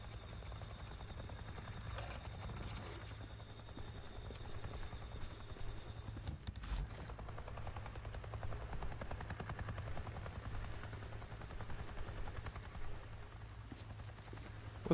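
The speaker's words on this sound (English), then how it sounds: "Didn't I just see a neuro chopper?" A helicopter in the zombie game Days Gone chops steadily throughout, its rotor pulsing at a fairly even distance and low level with no voices over it.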